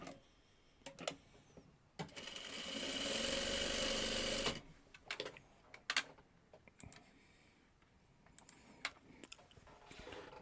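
A sewing machine stitches fabric strips together in a steady whirring run of about two and a half seconds, with short clicks and handling noises before and after it, close and alone.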